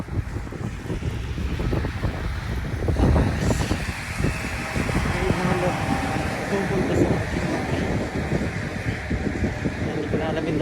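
Strong winter storm wind buffets the microphone outdoors in Newfoundland, Canada, a loud, steady roaring rush with gusty surges throughout, no voices heard.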